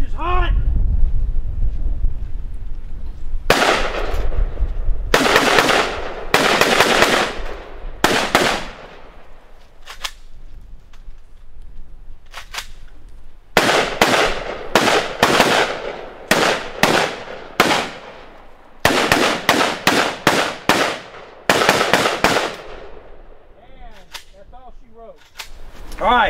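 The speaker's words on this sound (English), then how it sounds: "now that wasn't aimed fire. That was just kind of point and shoot." Handguns fire on an outdoor shooting range during a teacher training event, with several bursts of rapid, overlapping sharp bangs separated by pauses, loud and close, with wind noise and brief talk between volleys.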